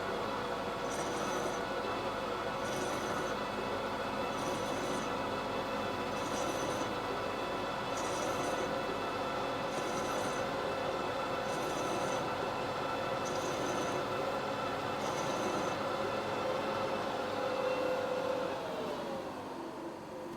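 A Schaublin lathe cutting a thread with its spindle at 900 RPM gives a steady, loud mechanical whir and hum. A faint, regular ticking repeats through it, and the run winds down near the end.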